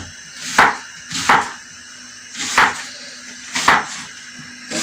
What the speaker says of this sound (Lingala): Kata matungulu.